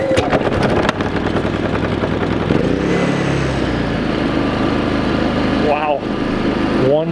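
Predator 3500 inverter generator being pull-started, the engine catching and settling into a steady running hum, loud and near, with a person talking over it.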